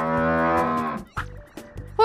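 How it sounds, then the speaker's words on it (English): A single loud, drawn-out cow moo, close by, followed by a few short sounds and the start of another call. "Cow!"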